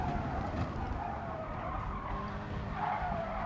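Tyres skid and scrub under a locked-up brake in a sim racing league race, a steady rasping slide over continuous engine and track noise with no talking.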